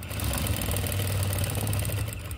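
A sewing machine stitches around all four sides of a square of cloth, giving a steady, rapid mechanical whir and chatter that runs continuously and fairly close.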